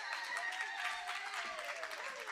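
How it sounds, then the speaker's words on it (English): Conference audience at an African women's history event applauding a speaker, a dense, continuous patter of clapping from a crowd, fairly soft and steady across the brief moment. "Let's give her a round of applause."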